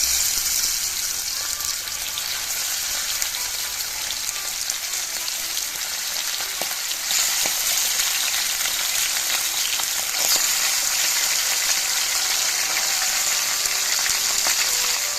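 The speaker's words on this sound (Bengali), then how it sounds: "এরপরে আমরা মাছগুলো ভেজে নেব।" Bele fish frying in oil for a Bengali fish curry: a loud, dense, unbroken crackling sizzle that stays close and steady for the whole stretch.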